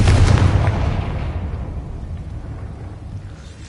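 A Confringo spell explodes in Hogwarts Legacy, a deep, loud boom with heavy low rumble that trails off and decays over several seconds.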